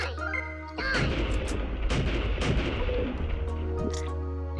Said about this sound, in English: Alright, I'm having problems because I'm using a cannon.